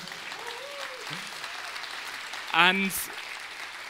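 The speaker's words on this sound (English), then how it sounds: "I got the biggest applause I could hope for" Audience applause at the close of a Scala conference talk on dependently-typed async, a steady wash of clapping with someone speaking briefly over it.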